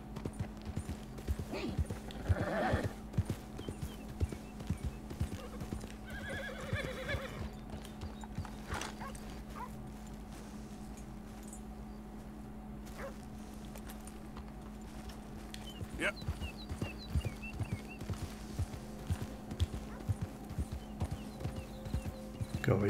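In Red Dead Redemption 2, a horse's hooves clip-clop steadily and the horse lets out a nervous neigh. Someone talks over the hoofbeats through much of the sequence.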